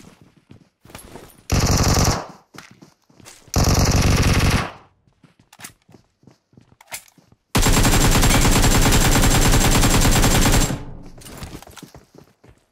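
Automatic rifle and submachine gun fire from an AK and an Uzi in the mobile shooter PUBG Mobile, with two short loud bursts followed by a long sustained volley of rapid shots, separated by scattered single cracks.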